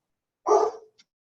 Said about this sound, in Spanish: tengo una perrita y empezó a ladrar